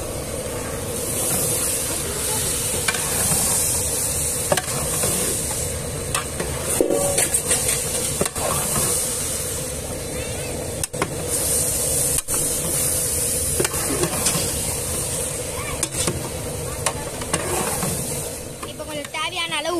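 Tomatoes sizzle and fry in a pan while being stirred for a mint dish, a steady close hiss with scraping stir strokes throughout, under a voice talking.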